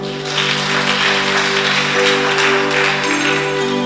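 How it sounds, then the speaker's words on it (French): A church congregation breaks into applause, a dense burst of clapping from many hands that carries over a sustained musical hum and swells to a steady level for a few seconds. "C'est très bien, acclamez pour vous-même."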